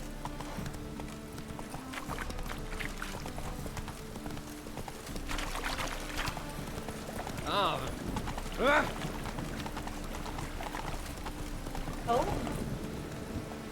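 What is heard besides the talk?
horse galloping in the video game The Witcher 3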